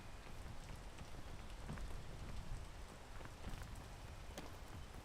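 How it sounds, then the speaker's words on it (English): Steady rain falling in the video game PEAK, a dense continuous hiss of drops with scattered louder patters, no voices. "And it's raining"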